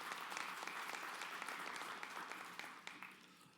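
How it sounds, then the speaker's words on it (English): Audience applause at an annual general meeting, a steady wash of many hands clapping from a crowded room, holding at an even level for several seconds before easing slightly toward the end. "I think that's worth a round of applause for that."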